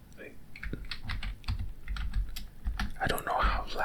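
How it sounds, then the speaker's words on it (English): Rapid keystrokes clatter on a computer keyboard, close and fairly quiet, in an irregular burst of clicks. "Look, it's typing sounds."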